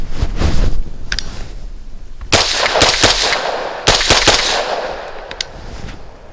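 Several sharp bursts of gunfire from an ATI Omni Maxx polymer rifle crack out close and loud, arriving as quick clusters of shots with ringing echoes between them.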